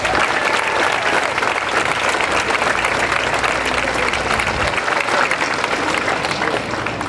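Warm audience applause welcoming a speaker at the Space Shuttle Atlantis exhibit opening ceremony at Kennedy Space Center, a large crowd clapping steadily and loudly for several seconds before it begins to taper.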